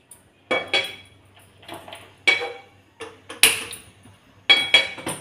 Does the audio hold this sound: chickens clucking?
no